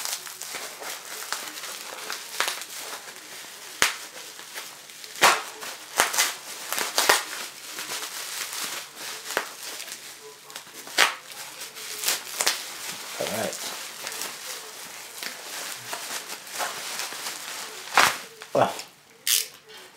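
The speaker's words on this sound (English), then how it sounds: "it's taking me forever to rip this open" Unboxing package being ripped open, a long run of scattered crinkles, tears and sharp crackles at close range, fairly quiet and irregular, with no talking.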